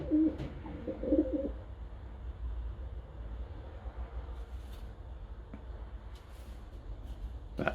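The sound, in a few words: pigeon cooing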